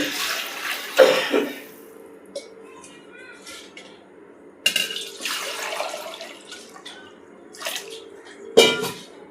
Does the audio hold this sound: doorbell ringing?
no